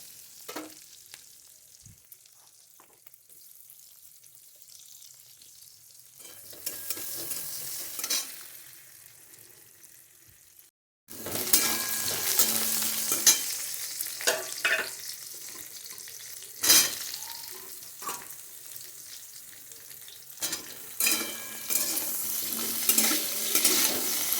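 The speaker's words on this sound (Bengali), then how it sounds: "যে আলুটা আমি কেটে রেখেছি সেই আলুটা দিয়ে একটু ভাজা করে নিয়ে আমি দিয়ে নেব সসনার ডাটাগুলো" Potatoes and drumstick (sajna) pieces fry and get stirred in a pan, with a soft sizzle early on that turns into loud, steady frying with repeated scraping stirs in the second half.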